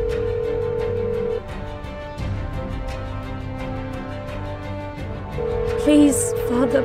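A steady telephone tone sounds over a music bed in an audio drama as a call to a father goes unanswered, the tone dropping out midway and returning near the end, fairly loud and with no one speaking.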